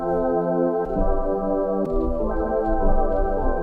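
An ambient synth keys patch called Enter Mirror, from the Sky Keys plugin, plays shifting sustained chords with bright harmonic layers, changing roughly every second in a smooth, steady flow, loud and clear with no voices.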